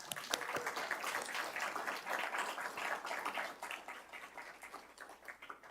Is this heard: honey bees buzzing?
no